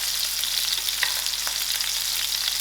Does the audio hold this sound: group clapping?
no